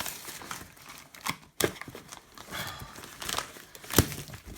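Package wrapping for a Zpacks Plexamid tent is torn and crinkled open in short, uneven bursts of rustling and ripping, close and fairly quiet, with sharper tears near the middle and the end.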